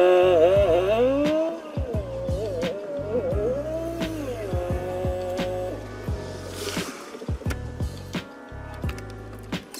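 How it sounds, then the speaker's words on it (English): An old Volkswagen Beetle is started and driven a short way in a driveway, its engine revving and idling close by, with gear and tyre noises and a few sharp clicks and knocks. "Let's hop into this car, move it real quick so we can move the Beetle"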